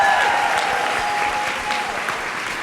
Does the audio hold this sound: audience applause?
yes